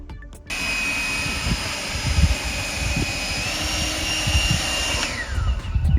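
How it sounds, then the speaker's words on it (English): A two-speed leaf blower running near a lakeside reservoir gives a loud, steady whooshing roar that starts abruptly after a short pause and holds throughout, with a faint whining tone above it. "Powered by a leaf blower."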